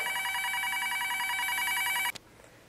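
A telephone bell rings continuously at close range in a laboratory test of a telephone set, a bright, rapid metallic trill that stops abruptly, leaving quiet background noise.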